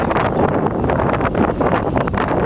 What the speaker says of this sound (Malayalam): നല്ല കാറ്റടിക്കുന്ന സൗണ്ട് നിങ്ങൾക്ക് കേൾക്കാതിരിക്കുള്ളതുണ്ടോ